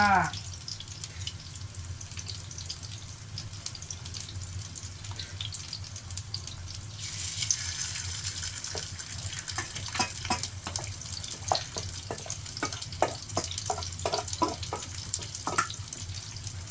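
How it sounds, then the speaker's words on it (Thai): Chinese-style shrimp cakes frying in oil, a continuous close hiss that grows louder and busier partway through, with scattered pops and crackles. "ทอดไปเรื่อยๆจ้ะ"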